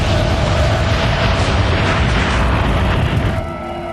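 The BP Texas City refinery explosion roars as a loud, sustained, rumbling blast filling the whole clip, then eases slightly at the end.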